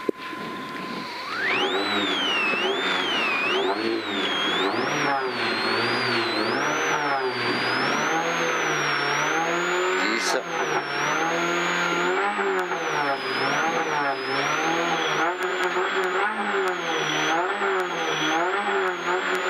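A Honda Civic rally car at a French hillclimb rally, its engine revving hard and winding through gear after gear with rising and falling pitch, loud and close from an onboard position, continuous throughout.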